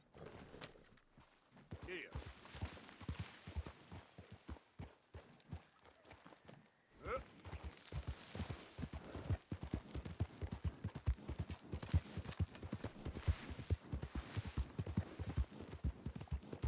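Horse hooves clip-clopping in Red Dead Redemption 2, a fast, steady stream of close hoofbeats that pauses briefly and then resumes at a gallop, with quiet voices in the background.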